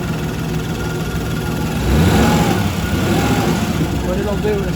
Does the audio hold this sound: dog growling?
no